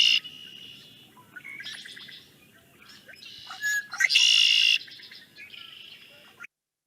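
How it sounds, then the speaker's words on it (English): A red-winged blackbird sings a few short, sharp notes and then a buzzy trill, the phrase repeated several times against quiet outdoor background. "So here is the red-winged blackbird, which will give a couple nice little sounding notes,"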